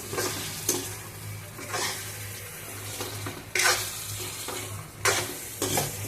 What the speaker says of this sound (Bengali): এবার এটা দিয়ে দিলাম দিয়ে একটু ভালোভাবে কষিয়ে তারপরে জল দিয়ে দেবো